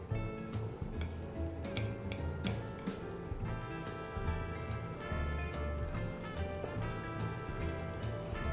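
Garlic and shallots sauté in a pan, a steady crackling sizzle with dense popping like rain on a surface, continuous and fairly close, with no voices.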